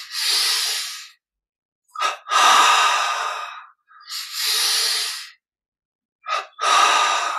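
Slow, deliberate breaths during a Yogoda energization exercise: audible inhales and exhales close to the mic, alternating with short sharp intakes and brief silent pauses between them, with no speech.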